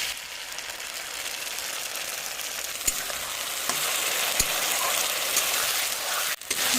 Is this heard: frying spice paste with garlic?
yes